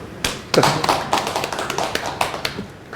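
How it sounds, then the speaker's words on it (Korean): Brief bursts of hand clapping from a church congregation during a Sunday worship service, scattered and uneven with sharp individual claps rather than a full ovation. "박수!"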